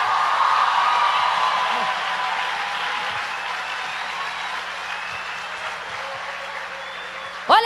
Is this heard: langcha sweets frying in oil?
no